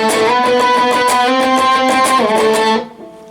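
Bright, distorted electric guitar plays the melodic octave solo from a song: a steady stream of sustained, singing notes shifting pitch for nearly three seconds before stopping abruptly.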